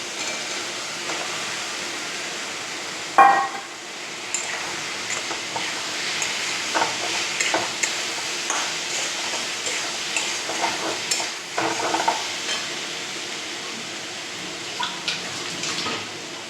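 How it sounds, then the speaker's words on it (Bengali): Soybean cooks in a pan with a continuous close sizzle and hiss, broken by repeated scraping and knocking strokes of a stirring utensil and one louder clank early on; nobody speaks. "আর এই যে সয়াবিন রান্না করছি।"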